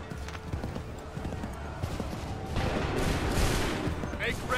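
Musket volleys crackle in Assassin's Creed 3, a busy burst of gunfire with scattered shots and clatter over a continuous battle din, growing louder toward the end.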